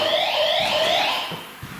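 A home alarm set off by a motion detector sounds indoors, a rising electronic warble repeating for about a second before fading, followed by a few faint thumps.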